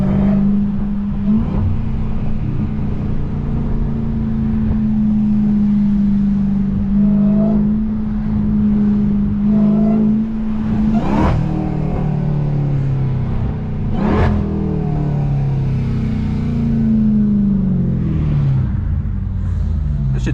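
A Dodge Durango Hellcat engine pulls hard from inside the cabin, a loud low drone that climbs and drops through gear changes with sharp shift thumps, continuous and close, with no voices.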